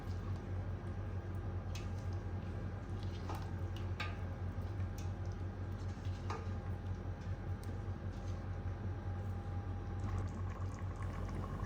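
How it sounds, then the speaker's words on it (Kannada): A pot of masala with fried eggs for biryani boils steadily at a constant level, bubbling and hissing throughout, with occasional faint clinks and no talking. "ಸ್ವಲ್ಪ ನೀರು ಹಾಕ್ಕೊಂಡು ಸ್ವಲ್ಪ ಕುದಿಸ್ಕೊಳ್ತೀನಿ ಈ ಮಸಾಲವನ್ನು"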